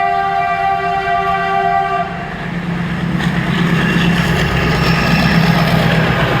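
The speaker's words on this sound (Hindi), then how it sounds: "ओए, ये तो मालगाड़ी है" A freight train passes a gated railway crossing near Hasimara, sounding a long horn before a steady loud roar of rolling wagons and rumbling wheels continues at close range.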